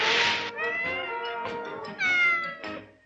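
A cat meows several times in a row, clear, close and loud, with drawn-out tonal calls separated by short pauses and a slightly wailing quality.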